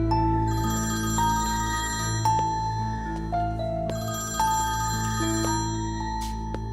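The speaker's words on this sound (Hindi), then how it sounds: "फोन आ रहा है किसी का" A telephone plays an electronic ringtone melody that repeats in steady phrases and rings loudly over a soft background score.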